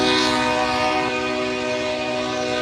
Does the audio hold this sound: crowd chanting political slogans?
no